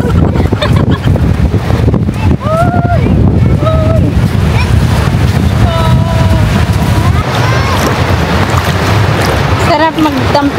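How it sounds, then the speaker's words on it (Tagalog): Gentle sea waves wash onto a beach in Aklan, a steady close rushing of surf buffeted by wind noise, while high bird-like or voice tones drift faintly through. "Ang ganda yung dagat kasi hindi malakas yung alon masyado."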